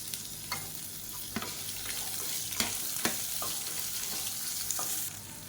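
Small-cut chopped onions fry in a pan for a chutney, giving a steady broadband sizzle with several sharp spoon-stirring clicks spread through, close and moderately loud with no talking.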